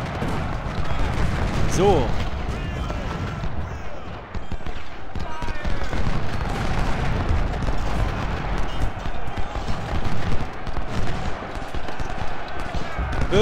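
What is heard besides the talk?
cannon and gunfire in a video game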